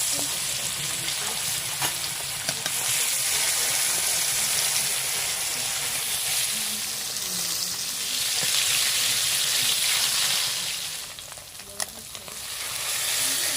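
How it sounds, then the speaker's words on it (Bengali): Fish fries in hot mustard oil: loud, steady sizzling and crackling, a dense hiss that swells and eases close up. "তেল গরম হয়ে গেছে মাছ দিয়ে দিচ্ছি তেলের মধ্যে"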